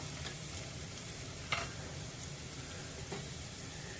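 Ingredients sauté in a pan over a medium gas flame, giving a soft, steady sizzle with a couple of faint clicks of stirring against the pan.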